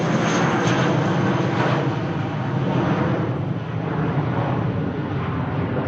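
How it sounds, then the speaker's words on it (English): Ryanair airliner touching down on runway 23 right at Manchester Airport, a loud, sustained broadband roar of engines and rushing air that eases slightly as it goes. "And maybe late landing clearance for this arriving aircraft. Just about to touch down."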